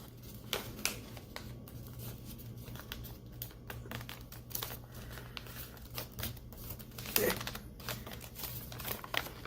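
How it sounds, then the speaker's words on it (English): Sheets of origami paper being creased and folded back and forth for a dragon model, giving soft crinkling rustles and crisp snaps close by over a steady low hum. "we are going to fold it like this. And then we fold it the opposite way."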